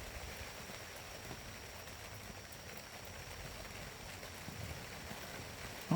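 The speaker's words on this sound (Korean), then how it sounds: "빗소리 좋아요" Soft, steady rain falls throughout, a faint even hiss of drops with no voices, ending in a brief sharp noise.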